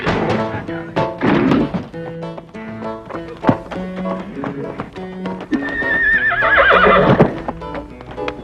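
A horse neighs and whinnies repeatedly, mixed with clip-clop hooves and dull thunks nearby, a loud, shrill whinny rising near the end.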